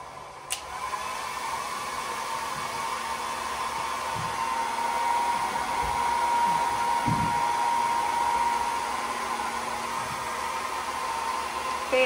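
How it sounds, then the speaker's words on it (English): A hair dryer blows with a steady, close whooshing roar that runs the whole time, with a few faint knocks underneath. "I'm gonna use the loudest hair dryer in the world."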